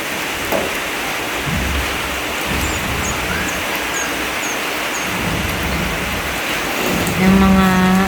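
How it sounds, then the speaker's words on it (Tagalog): Heavy rain pours down steadily in a rural backyard, a dense even hiss close by, with faint birdlike chirps and a brief tonal hum near the end. "Malakas na naman ang ulan."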